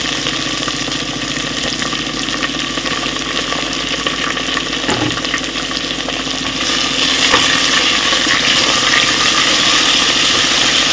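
Onions frying in hot oil for a chicken curry, a steady close sizzle with crackling throughout that grows a little louder partway, and no talking.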